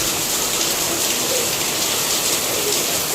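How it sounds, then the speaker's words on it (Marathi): Heavy monsoon rain pours down steadily outdoors, a loud, dense and continuous hiss of drops striking surfaces with no break across the whole moment. "आला फायनली जोरात पाऊस."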